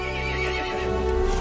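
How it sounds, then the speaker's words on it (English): A horse neighs in the video game Resident Evil Village, a loud, close whinny that swells over a low droning game background and sustains for about a second and a half. "The horse grew angry and summoned the other monsters."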